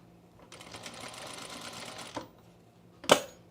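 A sewing machine stitching a pair of Cosecha pants runs steadily for under two seconds, then stops; a sharp knock follows a moment later, close and fairly loud.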